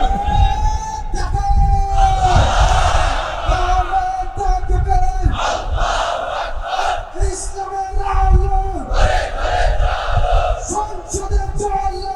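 A large crowd at a religious gathering roars Allahu Akbar together in answer to a takbir call, loud massed chanting voices rising and falling in repeated waves.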